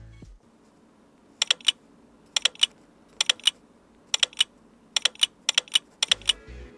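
Camera shutter sound on an OPPO Find X5 Pro phone, styled after a Hasselblad shutter, firing as repeated crisp double clicks in quick pairs, about eight times at a fairly regular pace over a quiet background.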